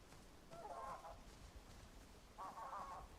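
A bird in the video game Where Winds Meet gives two separate nasal, goose-like honks about two seconds apart. The calls are faint and stand out over a quiet background.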